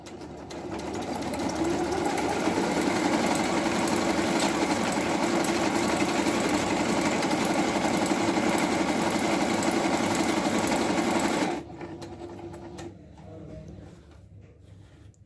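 A Jaguar KM571PP electric sewing machine stitching a decorative design runs in a steady, close whirring hum for about eleven seconds, then stops, leaving a quieter mechanical tail.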